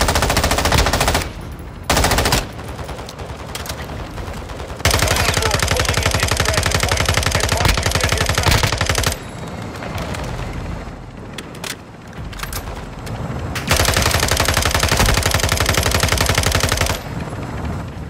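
Sustained machine gun bursts and gunshots from a military video game firefight, loud and dense, with short pauses between long volleys and booming low rumble throughout.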